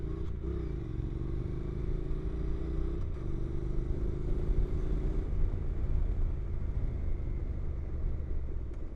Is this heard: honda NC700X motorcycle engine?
yes